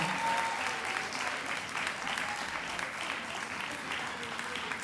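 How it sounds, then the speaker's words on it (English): Audience applause at the grand finale of a public sector debate competition, a steady dense wash of clapping that holds at an even level throughout. "So keep that applause going as they come"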